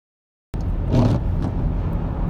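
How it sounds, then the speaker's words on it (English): A 2010 GMC Acadia driving after a fuel pump replacement, a steady close engine and road rumble that begins abruptly and holds evenly. "Driving the 2010 Acadia after the repair we had."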